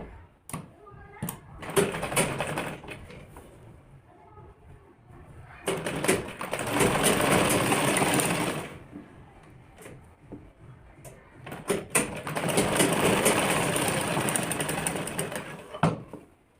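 A sewing machine stitching a kurti sleeve, running in two long bursts of rapid, continuous whirring, each several seconds long, separated by quieter handling clicks and a stretch of near silence.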